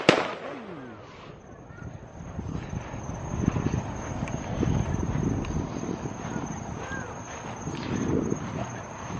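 Fireworks set off from a lakeside dock at a birthday celebration at sunset, a broad rumbling crackle of bursts and pops that swells and fades steadily throughout, with a faint voice now and then.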